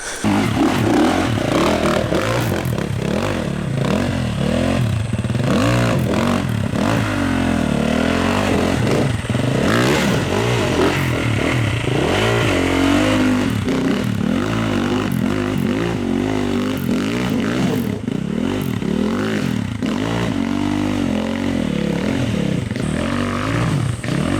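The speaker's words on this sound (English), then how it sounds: "see if I can get a big 4-stroke up there now" Big four-stroke enduro motorcycle engine on a hard enduro trail, loud and close, revving continuously with rising and falling pitch and throttle blips, rough mechanical clatter under the exhaust note, with no talk.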